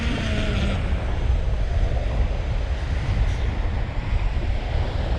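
Strong wind buffets the microphone on Denmark's west coast during surf casting, a steady, loud roar of gusts blended with rolling surf, continuous throughout with no voices.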